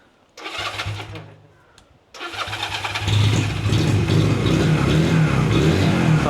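An older motorbike starts in two goes: a first short crank and rumble that dies, then a second start catching into a steady, loud, close idle. A voice speaks briefly at the start.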